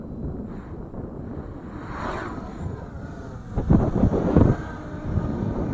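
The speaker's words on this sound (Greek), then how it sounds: "Να δυναμώνει λίγο αέρας." Gusting wind buffets the microphone of a flying hexacopter drone with low rumbling roar, swelling stronger toward the end.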